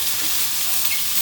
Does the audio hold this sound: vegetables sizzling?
yes